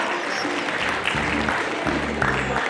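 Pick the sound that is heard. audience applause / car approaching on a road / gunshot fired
audience applause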